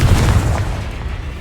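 A Confringo fire spell from Hogwarts Legacy bursts with a deep, booming blast that rumbles heavily through the low end and holds steady for about a second and a half, with a sharper crack near the end.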